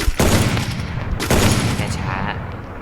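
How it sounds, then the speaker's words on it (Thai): Rapid bursts of gunfire from the mobile shooter Free Fire, a dense, loud volley with two sharp onsets followed by sustained rattling shots and reverberant tails, no talking over it. "เขาจะยิงกันแบบนี้นะครับ"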